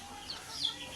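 Parent hens and roosters of a batch of chicks clucking faintly in a farm pen, a couple of soft, short calls over low background noise.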